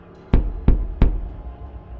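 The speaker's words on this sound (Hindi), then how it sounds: "मुख्य दरवाजे पर धीमी लेकिन साफ खटखट।" Three soft but distinct knocks on a main door, evenly spaced about a third of a second apart, close by in an otherwise quiet room.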